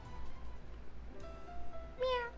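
A cat meows in the visual novel game Fatal Twelve, a short rising meow near the end over a steady low background hum and soft music.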